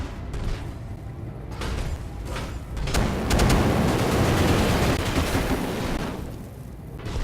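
Mech machine guns and flamers in BattleTech firing during a close combat attack, a dense roaring barrage of rapid gunfire and whooshing flame that swells in the middle, loud and continuous with no talk.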